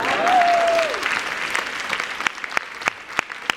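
A convention audience at Rising Con Barcelona claps loudly with a burst of laughter, and the applause quickly thins out into a few scattered, sharp single claps.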